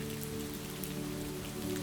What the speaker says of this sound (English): letting the sound of distant voices merge with the patter of the rain